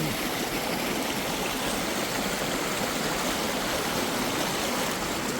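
A river stream at a campsite rushes continuously nearby, a loud, steady broadband wash of flowing water with no voices.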